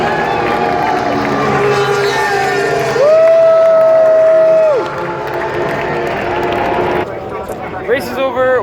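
A crowd swarms onto a race track after the race ends, with loud cheering, shouting and whoops close by, one long wavering yell standing out above the din.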